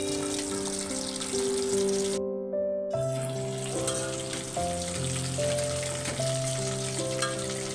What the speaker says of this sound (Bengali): এগুলো বাদামি রং না হওয়া পর্যন্ত আমরা এগুলোকে মিডিয়াম তাপে ভেজে নেব।